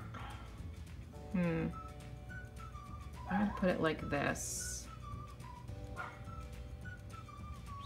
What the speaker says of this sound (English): You can hear my dog barking again.